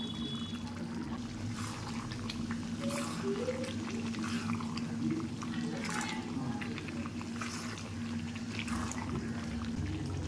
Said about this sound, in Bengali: আমি ভেজে রাখা আলুটা দিয়ে দেবো।